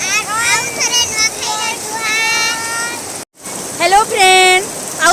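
Rain falls during the Nuakhai festival season, a steady broadband hiss that runs throughout while voices talk or sing loudly over it, with one brief dropout midway.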